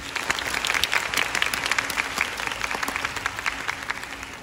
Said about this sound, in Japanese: ウェーブ知ってるってやつは拍手で教えてくれ。